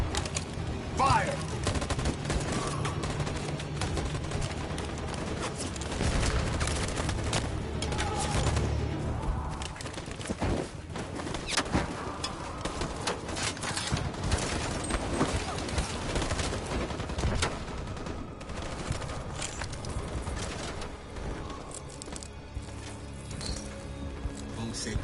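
Bursts of automatic gunfire and rapid volleys in the video game Detroit: Become Human, crackling shots scattered across the scene, mixed with game sound effects and voices.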